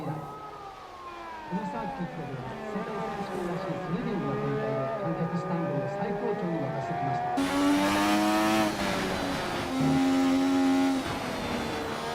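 A Super Formula race car in a classic league race in Japan, its engine note rising through the gears in long sweeping tones, growing louder and brighter partway through as it powers onto its lap, with a voice speaking over it.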